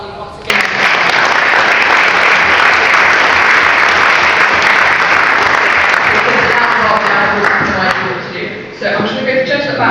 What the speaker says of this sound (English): massive round of applause for Rob Bassani once again?